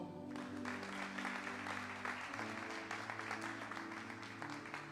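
A church congregation applauds during a worship service, a steady mass of clapping over sustained musical tones beneath, moderately loud throughout.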